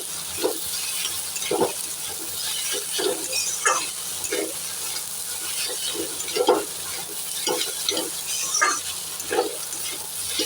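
Spicy semolina with soaked raisins is stirred in a pan, a spoon scraping and clinking in irregular strokes over a low background hiss.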